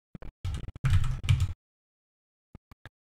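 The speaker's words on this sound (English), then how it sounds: "So essentially you press Control and M together and release them and press H." Shortcut keys are pressed on a computer keyboard: a quick cluster of clicking key presses, then a pause followed by a few isolated, lighter taps, close and clear with no talk.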